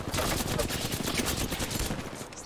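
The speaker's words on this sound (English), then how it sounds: "You can shoot back at them, shoot back at them." Gunfire during an Apex Legends match, heard as dense, continuous rapid shots with a steady loud wash throughout, all packed into a short burst of game audio.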